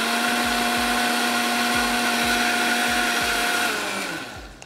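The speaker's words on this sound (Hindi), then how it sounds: "चलें और एक दफ़ा ब्लेंडर को और चला देते हैं" A blender mixing batter runs steadily at a loud, even whine with a rhythmic low pulsing, then winds down as the motor is switched off near the end.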